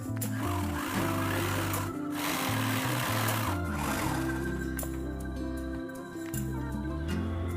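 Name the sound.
sewing machine stitching lehenga lining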